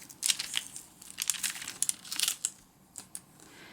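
Packing tape being laid down on parchment paper, giving irregular bursts of crisp crinkling and crackling, close and fairly quiet, with short pauses between handling sounds and no talking.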